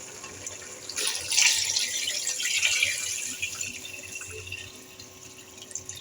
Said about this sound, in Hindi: अब इसमें टाइम है पानी डालने का